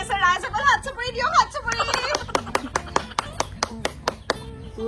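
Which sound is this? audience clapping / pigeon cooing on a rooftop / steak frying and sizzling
audience clapping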